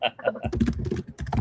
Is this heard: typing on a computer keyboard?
yes